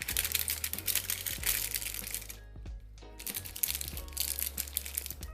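Hair-highlighting foil being folded gives close, crisp crinkles and crackles in irregular bursts, with a short quieter pause in the middle. No one speaks.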